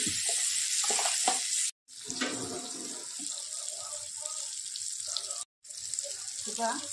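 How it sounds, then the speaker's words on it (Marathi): Masala-coated fish fries in hot oil with a steady, hissing sizzle, cut off by two brief silent gaps, with some faint background voices. "त्याच्यामध्ये हे आपले मसाला लावलेले मासे टाकूया"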